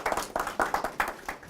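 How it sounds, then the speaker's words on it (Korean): A church audience gives a single short clap in unison, repeated in a few distinct sharp bursts with short gaps, moderately near and without talk. "박수 한번"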